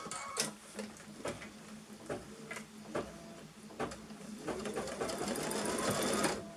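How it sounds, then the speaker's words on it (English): A sewing machine re-stitches a short stretch of seam, with quick bursts of mechanical clatter and ticking broken by brief pauses, then a steadier run of stitching toward the end, close up and alone. "I'm going to go back a few stitches and stitch that bit again."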